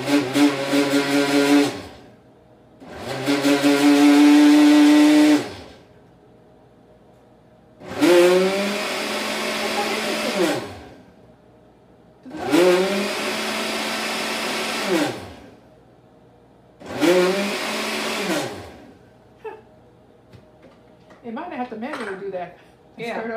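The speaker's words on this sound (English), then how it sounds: "it'll burst out of the blender and burn yourself" A kitchen blender purees potato soup vegetables in five loud bursts of whirring, each a few seconds long with brief silent pauses between, the motor pitch dipping and rising within each run; faint clatter follows at the end.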